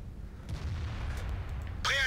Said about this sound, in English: That's a high explosive anti-tank right through the mantlet.